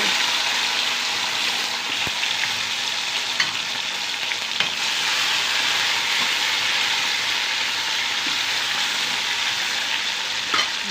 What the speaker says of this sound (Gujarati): અને સરસ મજાનો ટમેટાનો વઘાર થઈ રહ્યો છે.